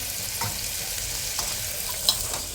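Gujarati-style tempering (vaghar) for mixed dal sizzles steadily in hot oil. The frying hiss is close and continuous, with a few brief crackles and pops and no voices.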